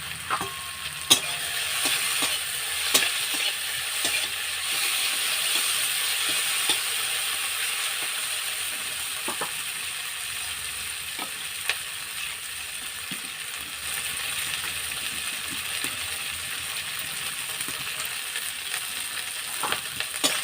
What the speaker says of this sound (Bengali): আমি টমেটো ক্যাপসিকাম আর ফোড়ন দিয়ে এটাকে অনেকটা ভাজা ভাজা করে নিয়েছি